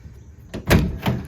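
Door of a 1973 Toyota FJ40 Land Cruiser under restoration, opening and shutting with a couple of short, fairly close metallic thunks in quick succession, no talk over it.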